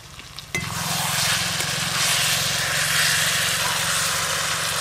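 Fried potatoes drop into a pan of cooked spice masala for Kashmiri aloo dum, setting off a sudden loud sizzle that stays strong and continuous over a low hum.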